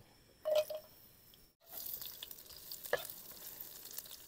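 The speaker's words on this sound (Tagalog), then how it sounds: "Pag mainit na itong mantika, lalagyan na natin itong mga natin." Ingredients drop into hot cooking oil in a home kitchen, with a sharp hit of sizzle, a brief pause, then a steady crackling fry and a stirring clatter close by.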